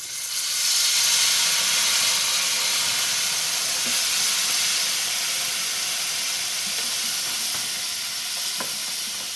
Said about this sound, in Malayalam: ഇനി അതിലേക്ക് വിനാഗിരി ഒഴിച്ചു കൊടുക്കാം.